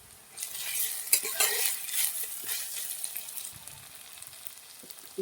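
Browned onions with ginger-garlic paste frying in a pan for a beef curry, a loud crackling sizzle that swells early then eases, with occasional utensil clinks and stirring scrapes up close.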